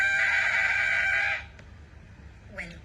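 A voice imitates car tires screeching around a corner at speed, one sustained high, shrill squeal lasting over a second before cutting off, close and loud, followed by a faint short vocal sound.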